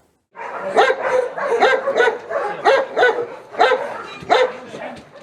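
Several service dogs bark repeatedly in quick, overlapping bursts, loud and close, with a few higher yips mixed in, at a canine center during veterinary checkups.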